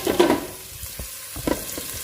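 Thai red curry ingredients fry in a pan with a soft sizzle, and a few light taps and stirring scrapes sound close by.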